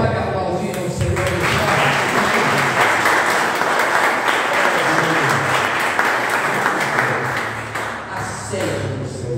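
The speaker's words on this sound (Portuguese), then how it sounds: "Você pode aplaudir ao Senhor." A church congregation applauds loudly and steadily during a family worship service, a dense wash of clapping that fills the room for several seconds, with a voice faintly audible beneath it.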